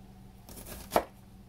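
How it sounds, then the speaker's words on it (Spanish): A knife chopping chili peppers on a board, a brief scraping rustle ending in one sharp cut, quiet and close, with no voices. "Ahí voy picando"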